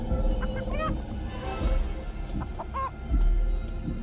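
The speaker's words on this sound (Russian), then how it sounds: "Глупая курица." A rooster clucks in short, repeated calls over a steady background din, with a few louder clucks standing out near the end.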